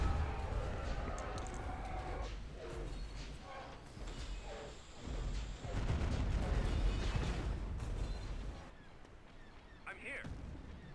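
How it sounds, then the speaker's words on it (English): Bombing run in a Star Wars: Empire at War mod battle: a rumbling series of deep explosion bursts and booms rolling through the clip, with a voice speaking over the din near the end. "Let's do a little bombardment run here then."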